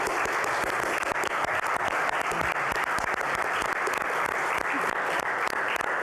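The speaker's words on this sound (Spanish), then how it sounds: "despedirles con un fuerte aplauso" A large audience at a press conference claps continuously, a dense, loud wall of applause that holds steady throughout.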